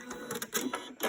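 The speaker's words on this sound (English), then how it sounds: "The end, I'm just going to back stitch and cut off." Sewing machine back stitching at the end of a seam on a top, a short burst of rapid mechanical needle clatter pulsing in quick uneven bursts, close and fairly loud with no talking.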